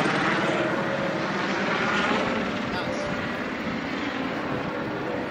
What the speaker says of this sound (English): So we are watching the helicopter landing at the London heliport.